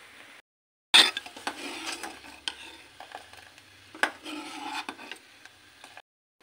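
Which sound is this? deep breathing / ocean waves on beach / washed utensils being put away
washed utensils being put away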